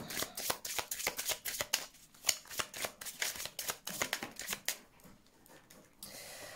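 Tarot cards being shuffled for a reading, a rapid series of crisp riffling flicks at a steady rhythm, close and fairly quiet, ending in a softer rustle with no talking.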